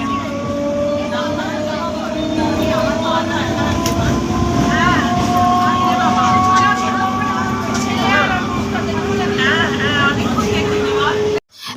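Moving train on a family trip toward Mousuni, a loud, steady rumble of wheels and carriages with sustained tonal whines and rattles, close and continuous, ending in a sudden cut.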